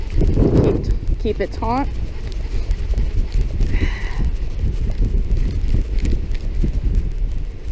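Extreme wind roars across a huge bridge during fishing, a loud constant rumble buffeting the microphone, with a voice briefly heard over it.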